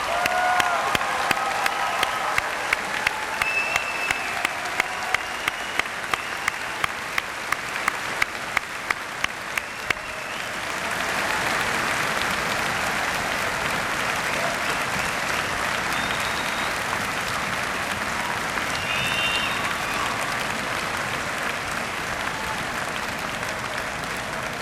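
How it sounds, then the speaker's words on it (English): Audience applause for a graduating class at a university convocation ceremony, large crowd clapping steadily and densely for over twenty seconds, with distinct individual claps early and a fuller wash of clapping later, no speech. "let's give a round of applause to the newest graduating class"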